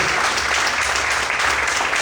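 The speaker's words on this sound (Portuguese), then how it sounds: "Será que você pode desfrutar a mão e aplaudir o Senhor?" Dense, steady applause from a church congregation clapping for God, a continuous wash of many hands filling the whole moment without pause.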